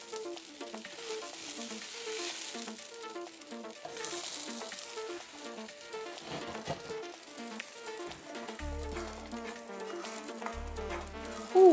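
Meat hits a pan of simmering pasta sauce and sizzles with a busy crackle that continues steadily, joined by a few low thuds and scrapes from the stovetop, fairly close and moderately quiet.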